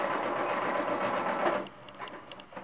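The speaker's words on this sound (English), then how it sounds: "I usually sew a few stitches and then raise the presser foot again to adjust the direction" A sewing machine stitches a cloth doll shoe in a steady, close, rapid mechanical run that stops after about a second and a half, followed by a few light clicks and brief quieter whirring.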